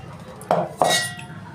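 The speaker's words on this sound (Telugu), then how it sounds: "షుగర్ పొడిని యాడ్ చేసి కలుపుకేసుకుందాం" A spoon clinks twice against a bowl while powdered sugar is mixed into a sesame mixture for nuvvula karji kayalu, two short bright metallic taps close by with no talking.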